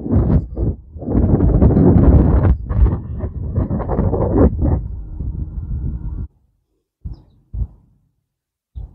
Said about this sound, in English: There's a gust.